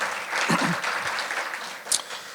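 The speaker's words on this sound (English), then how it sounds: "let's give him a round of applause" A crowd applauds steadily at a chamber of commerce luncheon, a dense wash of clapping at moderate distance, with a faint voice and a brief sharp sound near the end.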